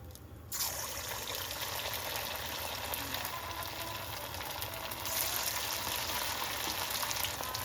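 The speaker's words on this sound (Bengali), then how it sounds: "এখন আমি এই সাবু পকোড়াগুলি তেলের মধ্যে ছেড়ে দিচ্ছি" Sago pakoras dropped into hot sunflower oil, a sudden burst of close, steady sizzling and bubbling that continues evenly, with a slight swell in intensity partway through, no voices.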